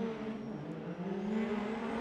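Orange Permatex BMW race car drifting at a competition, its engine holding a loud, sustained drone with a slowly rising pitch, heard close and on its own.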